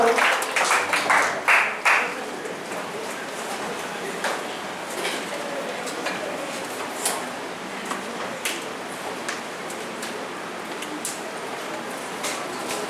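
Congregation applauding during a Spanish-language church service, a burst of claps in the opening seconds that thins into scattered sharp claps and knocks over a murmuring room.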